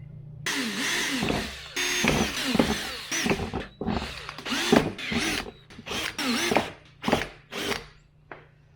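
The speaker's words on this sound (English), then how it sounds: "I got all my pilot holes drilled equally spaced apart" A power drill bores a series of pilot holes into the body of a 1997 Jeep Wrangler TJ for a third brake light, sounding as repeated short, close whirring bursts with brief pauses between holes.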